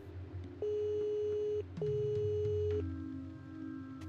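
Long steady ringback tones of an outgoing phone call in the horror game Sciophobia, two sustained beeps separated by a short gap, followed by a faint hum, with no talking.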